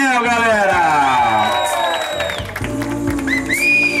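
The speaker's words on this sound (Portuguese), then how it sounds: "Palmas pro Daniel, galera!" Applause breaks out for Daniel with cheering and whoops from a lively crowd, loud and sustained over about four seconds, with voices calling out amid the clapping.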